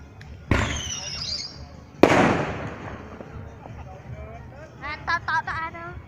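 Fireworks and firecrackers going off at a Tet New Year celebration, with two sharp loud bursts followed by crackling and whistling rockets, heard over background crowd chatter.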